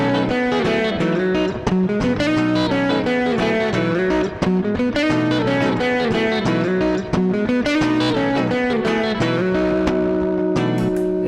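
Electric guitar playing a blues rock lick with harmonized lines climbing a major pentatonic scale, slightly distorted tone, continuous and loud, no voice over it.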